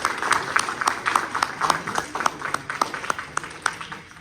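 Audience applause at a university presentation event, a moderately sized crowd clapping in a quick, even patter of distinct claps that stays steady, then thins slightly toward the end.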